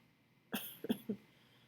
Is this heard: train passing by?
no